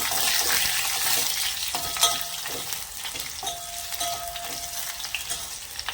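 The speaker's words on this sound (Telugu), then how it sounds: "ఇప్పుడు వెల్లుల్లిపాయ వేస్తున్నాం" Crushed garlic dropped into hot oil on a lowered stove while cooking ponnaganti greens dal, giving a bright, continuous sizzle with crackling pops and occasional stirring scrapes, fairly close and without talk.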